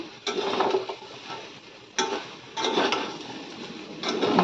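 A utensil stirs and scrapes food in a pan just after sugar goes in, producing bursts of clattering metal scraping separated by short pauses, close and fairly loud, with no one talking.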